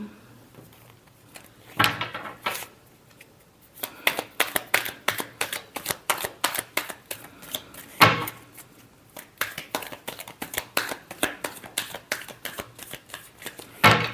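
Tarot cards are shuffled close up, with quick papery riffles and slaps that come in irregular bursts, some soft and some sharp, in a quiet room.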